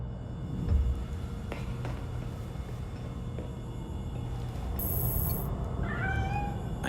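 A cat meows in the video game Gotham Knights, a couple of short high cries heard faintly toward the end over a steady low rumbling background.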